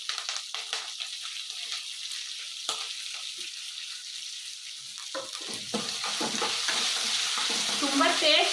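Cumin seeds and curry leaves sizzle in hot oil for a chutney, a steady close crackle broken by stirring scrapes that grows louder toward the end.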